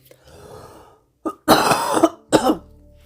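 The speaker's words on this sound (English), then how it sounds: "Oh, I've got a horrible cough." A person coughs hard several times in quick bursts, close and loud, after a softer throat-clearing rasp.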